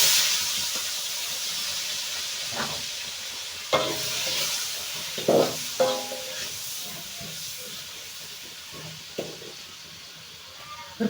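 Food frying in hot, foaming oil, a steady hiss and sizzle that runs throughout, broken by a few louder bubbling bursts and stirring clatters near at hand.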